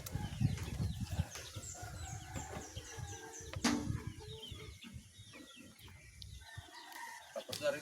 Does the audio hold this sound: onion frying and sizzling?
no